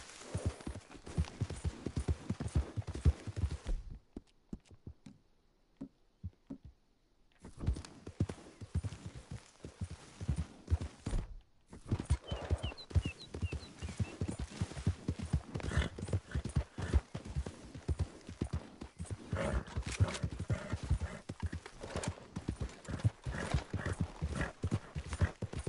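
A horse in Red Dead Redemption 2 gallops with loud, rhythmic hoofbeats close by. A brief quiet gap interrupts the hoofbeats before they resume, with a faint whinny at times.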